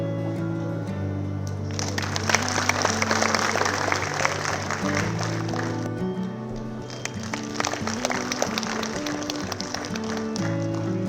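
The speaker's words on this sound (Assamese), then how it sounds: "এজাউৰি হাত চাপৰি" Audience applause at an All India Radio Guwahati stage programme: dense, steady clapping from a crowd sustained for several seconds over a droning tonal background.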